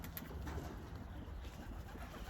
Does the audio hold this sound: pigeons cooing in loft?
yes